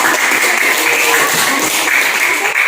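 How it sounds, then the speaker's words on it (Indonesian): A classroom group's applause, dense continuous clapping from many hands, loud and close for the whole stretch, without speech over it. "Berikan aplaus kepada kelompok 1."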